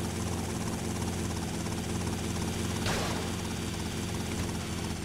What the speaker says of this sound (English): Again with the fucking troll helicopter.